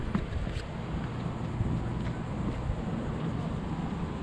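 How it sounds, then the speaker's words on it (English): Breezy wind rushing across a campsite at Pelican's Landing Resort in Vero Beach, a continuous buffeting roar with microphone rumble and a few faint distant knocks. "Very quiet, very breezy."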